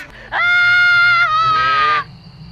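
A man in a horror comedy film screams loudly, a high strained cry lasting nearly two seconds over a low background hum.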